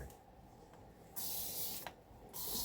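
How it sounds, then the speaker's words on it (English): Alcohol sprayed from a spray bottle onto a resin mold base, two sharp close hissing bursts in quick succession in an otherwise quiet room. "spray a little alcohol down"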